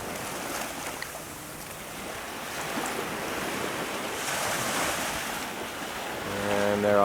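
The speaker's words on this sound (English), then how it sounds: "We're at the Mediterranean Sea. The water is quite warm." Warm Mediterranean Sea surf washing onto a beach near Cannes, a steady broad rush of waves with wind buffeting the microphone, swelling louder toward the end; no voices.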